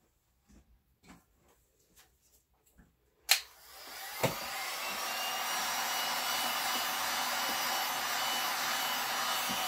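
A heat gun is used to warm resin art. After a few soft taps, it switches on with a sharp click and settles into a loud, steady blowing roar that runs alone to the end.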